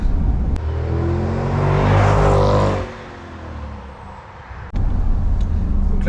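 Mercedes CL63 AMG V8 engine revving: a loud, deep blip that swells to a roaring peak and falls back to a rumbling idle, followed by another burst near the end.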